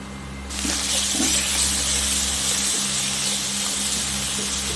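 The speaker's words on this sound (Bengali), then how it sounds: "আলুটাকে ভেজে নিচ্ছি।" Potato pieces frying in oil in a pan make a loud, steady sizzle and hiss that bursts in suddenly and keeps going under a low kitchen hum, with a few soft crackles.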